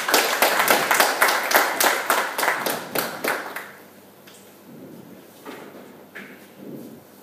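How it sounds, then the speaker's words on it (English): Audience applause greets a speaker introduced to give a MongoDB talk, a burst of steady clapping for about three and a half seconds that thins out, followed by scattered faint claps and murmurs. "Please give her a big round of applause."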